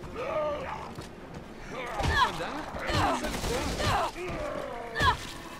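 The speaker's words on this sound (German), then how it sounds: "schieß ihm einfach ins Kreuz" Gunfire in the survival horror video game Resident Evil Revelations 2, several sharp shots with thuds and a final louder blast, set under a steady game soundscape while someone talks.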